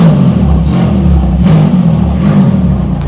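Turbocharged Porsche engine revving in repeated bursts about every three quarters of a second, loud and close, each blip rising then falling back over a steady rumble.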